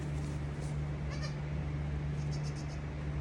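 Mini goats bleating softly in a farm setting, with two or three faint, brief calls spread across a steady low hum and room noise.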